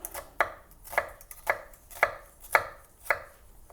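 A knife chopping onions finely on a cutting board, six crisp, evenly spaced strokes about half a second apart, close and clear with no talking.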